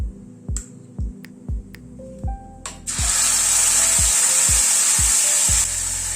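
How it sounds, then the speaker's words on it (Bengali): Yogurt and spice mixture poured into a hot pan on a low gas flame, bursting into a loud steady hiss and sizzle after a few sharp clatters and taps. "এবার দই আর মশলার মিক্সচারটা ঢেলে দেবো।"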